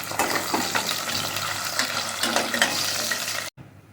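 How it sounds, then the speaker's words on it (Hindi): Chopped onion, a medium-sized one, goes into half a cup of hot oil in a kitchen pan. It gives a steady, dense sizzle close up with some stirring, then drops abruptly to near quiet at the end. "आधा कप लिया है हमने तेल, और उसको गर्म करने पर एक मीडियम साइज़ की प्याज डालेंगे"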